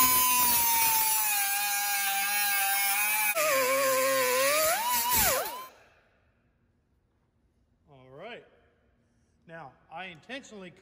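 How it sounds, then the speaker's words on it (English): A power tool cutting scrap aluminum sheet for a hood scoop gives a loud, steady high-pitched whine for about five seconds that wavers and then cuts off, followed by quiet and a little talking. "Now the problem with cutting aluminum is it clogs up whatever you're using."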